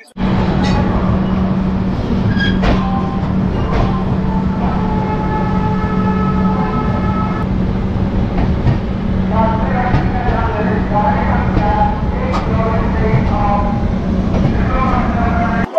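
Kumbh Express passenger train running through the night toward Varanasi Junction, a steady loud low rumble and rail drone throughout, with intermittent higher squeals and tonal whines of wheels and brakes.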